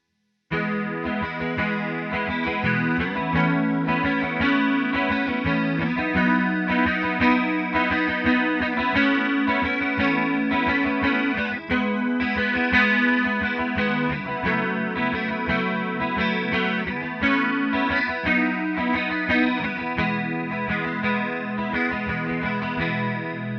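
A Coppersound Polaris chorus pedal shimmers over a guitar strumming open chords in an E major progression. The rhythm playing is loud, steady and continuous, with a lush, warbling chorus and slight grit throughout.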